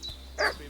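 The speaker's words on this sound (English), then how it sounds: "What's that dog making such a fuss about?" A dog in the video game Kingdom Come: Deliverance II gives a single short bark at middle distance, with a brief faint yip just before it. No one speaks.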